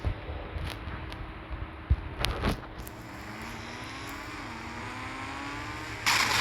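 An engine drones steadily while a car is driven in GTA IV, with a few sharp knocks early on and a burst of noise near the end; no speech.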